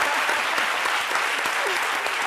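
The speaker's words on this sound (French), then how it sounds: "Merci de l'applaudir très fort." Dense audience applause, a steady wash of many hands clapping at close range, with a voice faintly audible beneath it.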